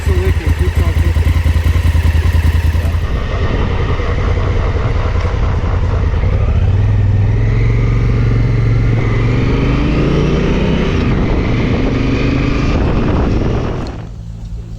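Honda Africa Twin motorcycle engine running after a crash, a loud, steady idle and revving drone with clattering mechanical texture that holds for most of the span before cutting out near the end.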